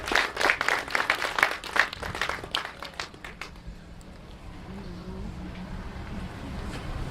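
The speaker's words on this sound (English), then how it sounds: "Big round of applause to Victor Gale, part of the staff for 32 years." Audience applause for a long-serving staff member at a bust unveiling ceremony, a burst of dense clapping for about four seconds that fades into low background ambience and murmur.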